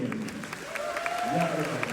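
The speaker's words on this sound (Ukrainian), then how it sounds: "Це оплески, а зараз від неймовірні оплески." Clapping from a theater audience at a stage show about Mary Stuart, scattered claps sounding beneath a voice that talks over them for the whole moment.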